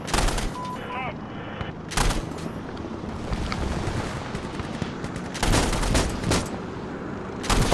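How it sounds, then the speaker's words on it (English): Gunfire in Insurgency: Sandstorm, with several sharp, loud volleys of shots separated by stretches of quieter background rumble and scattered distant pops, and someone speaking briefly amid the firefight. "Someone's trying to shoot me."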